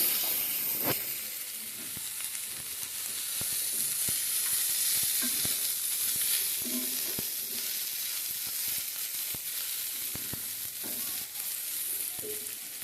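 Onions sizzling steadily in a hot pan just used for frying fish, with a continuous hiss broken by repeated scrapes and taps of a spatula stirring.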